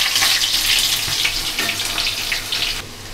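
Chopped onion dropped into hot oil already seasoned with cumin seeds and asafoetida, giving a steady loud hiss and crackle throughout that eases slightly near the end, with no voices.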